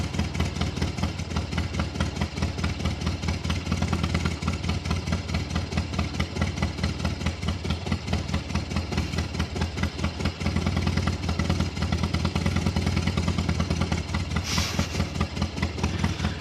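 A motorcycle engine idles steadily and loudly throughout, a constant low rumble with rapid pulsing, no voices.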